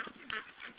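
Goose honking up close, a couple of short nasal calls with a brief louder honk in the middle, fairly faint and with no talk.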